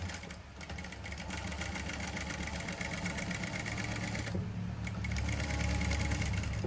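A sewing machine stitching the neck of a princess-cut saree blouse runs with a steady, rapid mechanical whir. It is continuous and close, and briefly eases before speeding up again, with no talk.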